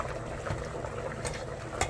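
About a litre of salted water boils in a pot, making a continuous bubbling, rolling gurgle with a few sharper pops and splashes near the end.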